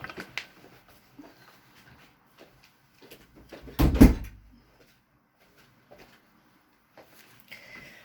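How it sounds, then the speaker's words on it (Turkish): A door being shut indoors gives one dull, solid thud with a short rattle about halfway through, after a few faint knocks and shuffles in an otherwise quiet room. "Hemen iki dakika kapıyı kapatıp geliyorum."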